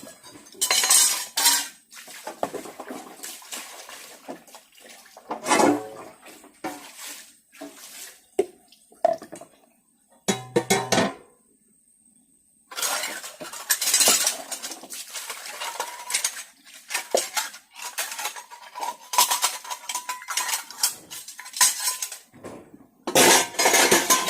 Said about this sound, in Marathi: 5-10 मिनिटं लागतात भांडी घासायला